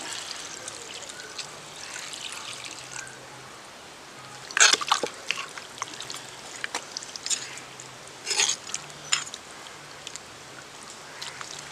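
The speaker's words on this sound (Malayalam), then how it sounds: "ഇനി നമുക്ക് വെള്ളം ഒഴിക്കാം." Water is poured into a pot of country chicken curry. A soft trickling background gives way to two louder bursts of splashing pour, with lighter dribbling in between.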